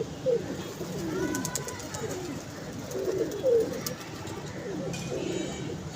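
Pigeons at a pigeon club coo in soft, throaty bursts, several calls spaced across the moment with faint background noise.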